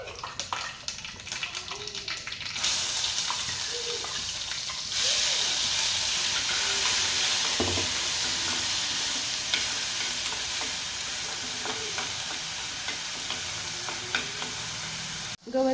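Cumin and mustard seeds fry in hot oil for a gravy, a strong continuous sizzle that swells after a few seconds and holds steady, with faint stirring and kitchen clatter underneath.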